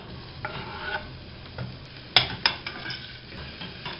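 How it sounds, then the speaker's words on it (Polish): Onion fries in a single spoon of heated oil in a pan, giving a low, steady sizzle up close. Stirring scrapes and a couple of sharp clinks of utensil on pan come through, with no one talking. "na jednej łyżce oleju, którego trzeba troszeczkę rozgrzać, należy podsmażyć cebulkę."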